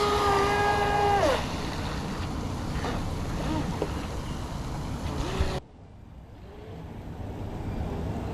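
A Pro Boat RC racing boat, Recoil 2 18-inch or BlackJack 26-inch, runs across choppy water with a loud, whining electric motor that shifts pitch, then cuts abruptly to quieter wind and water noise.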